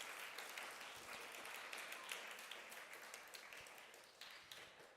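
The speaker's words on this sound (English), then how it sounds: "can we please give Ms. Volkmerans another round of applause?" Quiet, distant audience applause for a speaker at a National Science Week 2025 event: a soft, continuous patter of many hands that eases slightly toward the end.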